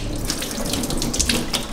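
Water runs steadily from a tap into a sink, a constant splashing hiss with a few brighter drips and spatters.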